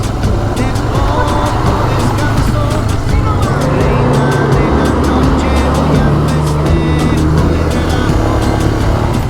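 Heavy engine rumble and road noise from a convoy of massive trucks passing close by, loud and continuous, with wind buffeting throughout.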